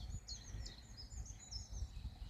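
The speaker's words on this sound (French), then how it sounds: "Les petits oiseaux qui chantent." Small birds singing outdoors on a calm Sunday morning in the countryside near a weeping willow, faint thin chirps and warbles at a distance over low wind rumble.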